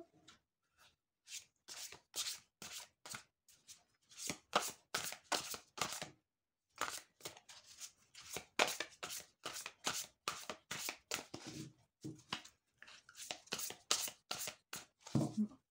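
Ishtar oracle cards are shuffled and drawn, with many crisp riffling and slapping bursts in quick, uneven runs broken by short pauses, close and fairly quiet, with no talk.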